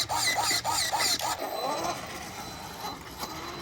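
Traxxas X-Maxx RC car with a belt drive, running on 8S, its electric motor whirring up in several quick rising pulses, then settling to a quieter whine under background noise, close by.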